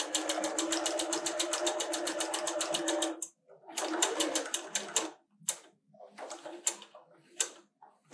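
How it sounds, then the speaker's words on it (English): A sewing machine stitches 1/4 inch seams on a churn dash quilt square of half square triangles, running in a fast rapid patter for a few seconds, then in short stop-start bursts. "I'm going to take this to the sewing machine, and I'm going to sew 2 1/4 inch lines"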